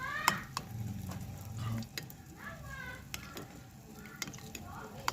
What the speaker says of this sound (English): You need to shallow fry these cutlets